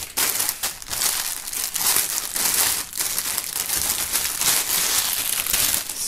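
Plastic film wrapping around a band's merchandise box set items, a cap and scarf, crinkles and crumples continuously at close range, a dense rustling texture with no talk.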